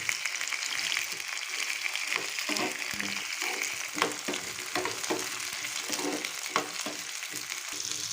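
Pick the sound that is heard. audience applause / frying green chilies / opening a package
frying green chilies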